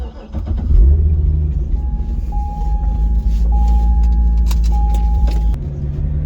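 A Corvette C6 Z06 fires up and settles into a loud, deep, steady idle close by, with a thin electronic chime beeping in the cabin over the engine rumble.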